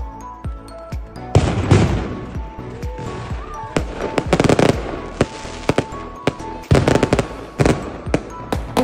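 Easter fireworks at an Orthodox midnight celebration, a loud irregular barrage of sharp bangs and crackling bursts that comes in clusters with short lulls, with faint voices in the crowd.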